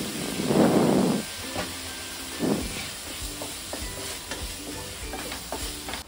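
Ginger garlic paste and tomato fry in a pan, a soft sizzle punctuated by several scraping stirs, including a louder burst early on, then quieter intermittent clinks and scrapes.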